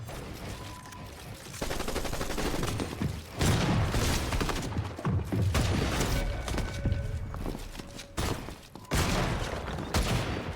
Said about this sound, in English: I'm using the auto shotgun.